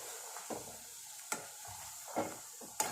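Chopped onion sizzles and crackles in hot homemade hair oil, soft frying hiss broken by several sharp stirring clinks and pops, fairly faint and close.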